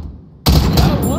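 A single sudden loud gunshot in the Call of Duty Gulag, a sharp blast after near silence with a ringing tail and a trace of voice.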